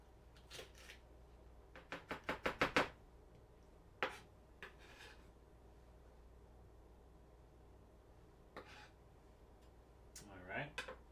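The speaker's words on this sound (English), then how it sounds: "we want to chop these very finely" A knife finely chopping ingredients on a cutting board, a quick run of crisp taps followed by scattered single chops, quiet and close, with brief speech at the end.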